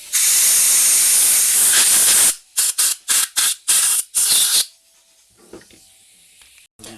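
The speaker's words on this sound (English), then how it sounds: "make sure those are nice and blown through" Compressed air is blown through the jets of a carburetor being cleaned: a long loud hiss, then a string of six short sharp bursts, trailing off into quiet handling noises.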